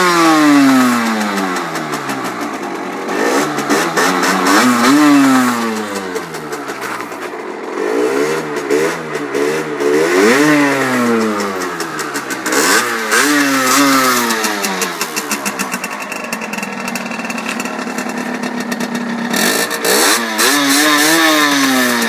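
A Derbi GPR 50cc racing motorcycle's small two-stroke engine, heard close and loud, idling and then revving repeatedly, with pitch climbing and falling in several rising and falling sweeps.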